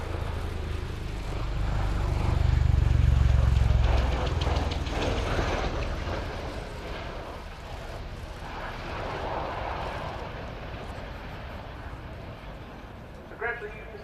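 Bell-Boeing CV-22B Osprey tiltrotor of the US Air Force flying a display at the RIAT 2016 airshow in conventional aircraft mode, a deep droning engine and rotor roar swelling and fading at a distance under steady commentary from a man.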